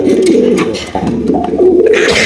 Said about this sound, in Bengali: এত সুন্দর কবুতর মাসাল্লাহ লাইট কালারের ব্লু শার্টিন কবুতর